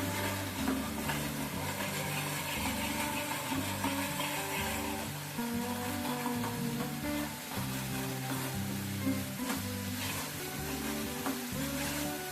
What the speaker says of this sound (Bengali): মশলাটা খুব ভালো করে কষানো হয়ে গেছে, তেল ছেড়ে দিয়েছি।